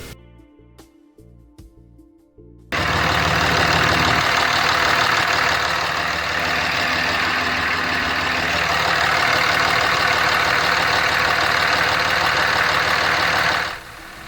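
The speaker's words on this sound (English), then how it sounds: "The engine is running on pure Seafoam." A Cummins CRD common-rail diesel engine idles on pure Seafoam motor treatment fed from a canister, starting abruptly after a few quiet clicks and then running with a steady, loud, knocking clatter before cutting out near the end.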